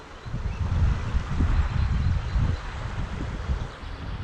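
Gusty wind buffeting the microphone while fishing on the Kwisa river, a low rumbling roar that swells and eases in waves, with no talking.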